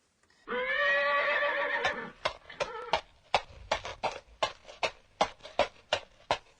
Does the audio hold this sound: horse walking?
yes